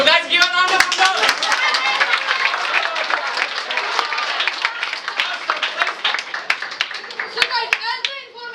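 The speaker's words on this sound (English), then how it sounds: "So guys, give a round of applause." An audience at a felicitation celebration bursts into steady clapping applause that carries on loudly for several seconds, with some voices and someone speaking mixed in.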